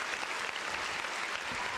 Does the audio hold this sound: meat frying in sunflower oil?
no